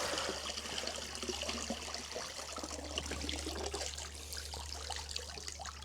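Water pours and trickles steadily out of a Zodiac Freedom Lite pool cleaning robot lifted from a pool, a continuous splashing drain heard up close over a low hum.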